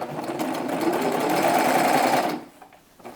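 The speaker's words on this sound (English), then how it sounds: "Lower your presser foot and go ahead and serge that side." A serger overlocks a fabric edge, its motor and needles running in a fast, even, close whir for about two and a half seconds before stopping abruptly, followed by a faint click.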